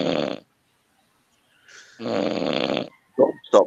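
A person snores loudly and close by: a rasping snore at the start, a pause, then a longer drawn-out snore, followed by two short, sharp snorts at the end.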